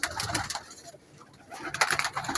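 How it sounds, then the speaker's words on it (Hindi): Teddy breed pigeons cooing nearby in a breeder's loft, with two soft bursts of calls separated by a brief quieter pause. "बहुत अच्छा कबूतर है ये।"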